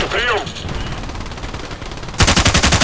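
Rapid automatic fire from a 9A91 rifle in Battlefield Play4free, a close, loud stream of shots that breaks into a sharper burst near the end, over a busy game background.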